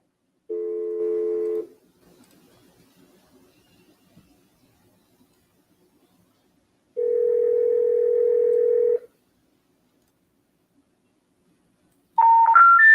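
Tones from a cold call: a steady dial tone around the first second, a longer ringback-like tone near seven to nine seconds, then a quick rising run of dialing beeps at the end, with silence between.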